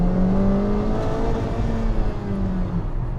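A Honda Civic Type R FK2 in Plus R mode accelerates hard, its engine note climbing steadily and loudly through the revs with no talking over it.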